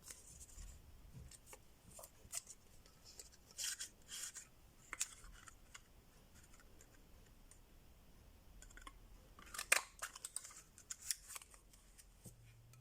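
Scissors snip a paper label for a bookmark, giving a sparse series of short, quiet cuts and crisp clicks, with light handling rustle between them in a hushed room.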